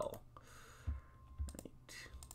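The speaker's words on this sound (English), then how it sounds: "sorry if you guys can hear all my clicking on the mouse" A computer mouse clicks sharply during a Minecraft session, with a few distinct louder clicks and fainter ones scattered over low background noise and some voice.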